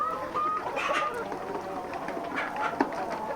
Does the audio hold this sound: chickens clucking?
yes